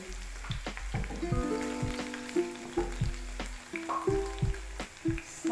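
Green onions fry gently in a pan over a low flame, giving a soft sizzle under frequent clinks and taps of utensils and a low intermittent hum, close but quiet.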